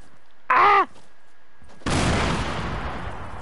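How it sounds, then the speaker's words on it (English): A grenade thrown in Fortnite goes off as a sudden broad blast that decays into a rumbling noisy tail, following a short vocal groan and a quiet gap. "I'm just gonna throw one grenade at it."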